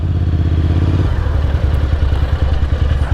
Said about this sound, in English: That was a hard downshift.